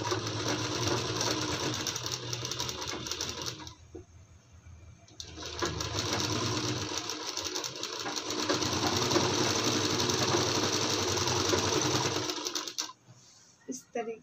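A sewing machine stitches the side seam of palazzo pants in loud, steady whirring runs, pausing once for a couple of seconds before running again and then stopping.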